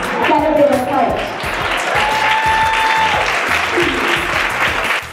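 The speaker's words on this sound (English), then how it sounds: "I watched the crowd go absolutely nuts." A crowd at an empowerment weekend event applauds loudly and steadily for several seconds, dense clapping with some cheering and voices underneath.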